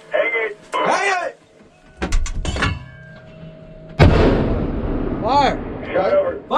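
Booming artillery shots during a joint US and ROK Army live fire drill, two or three sharp heavy blasts amid shouted commands from soldiers.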